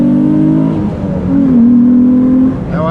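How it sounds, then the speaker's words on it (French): Nissan 350Z V6 engine revving loud and close, a harmonic-rich tone that rises, dips, then swells into a sustained higher rev before falling off, with no voices. "c'est le V6 qui a la plus belle sonorité à mon goût"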